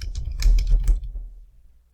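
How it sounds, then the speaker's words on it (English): A quick burst of close keystrokes on a computer keyboard, rapid clicks for about a second that then stop, leaving quiet. "so I'm just going to type that in"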